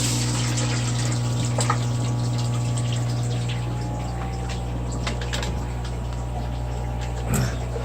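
Water running steadily from a tap or pump into a container to collect clean water for an aquarium water change, a continuous close gushing flow with a constant hum underneath and no talk.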